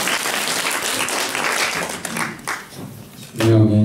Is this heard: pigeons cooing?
no